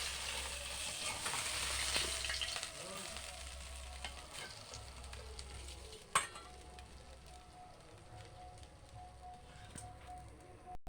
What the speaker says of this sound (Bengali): মাথাটা লাল লাল করে ভাজা হয়ে গেছে